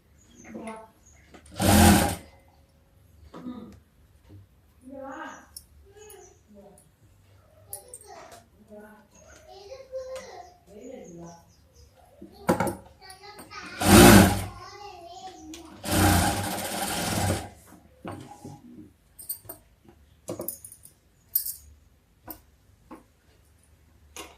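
A sewing machine runs in a few loud, short bursts, stitching a top seam over a hand-joined patch. Someone talks between the runs.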